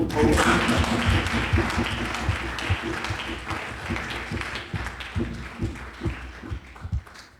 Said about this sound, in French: On donne les applaudissements aussi.